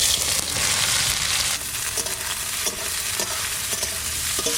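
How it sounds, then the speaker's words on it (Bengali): Bitter gourd frying in hot mustard oil, a loud close crackling sizzle with intermittent scraping stirs, easing slightly after a moment but continuing steadily. "এইবার এই করলাটা ভাজা করবো"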